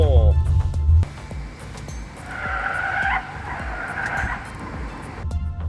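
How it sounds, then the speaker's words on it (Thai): Tires on an MG4 Electric squeal and skid through a slalom at 80 km/h, a strained whine rising for a couple of seconds mid-run over road and motor noise, with voices talking alongside. "เริ่มต้นที่ความ เร็ว 80 กิโลเมตร ต่อชั่วโมงกับสลาลอมนะฮะ ดูซิอาการรถจะเป็นยังไง"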